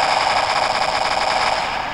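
Rapid automatic gunfire in Counter-Strike: Source on the surf_monster map, a dense, steady rattling burst that runs loud and unbroken from start to finish.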